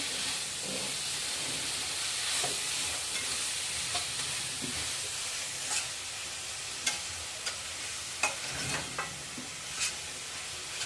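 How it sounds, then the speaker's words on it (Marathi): Masala sautéed in a pan for veg hakka noodles gives a continuous sizzling hiss, with occasional spoon scrapes and taps on the pan growing more frequent toward the end. "मसाला टाकतो आहे छान परतवून घ्यायचं आहे"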